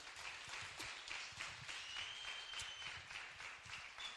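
A church congregation applauds during a sermon, a faint, distant wash of steady clapping with individual claps and a rhythmic pulse.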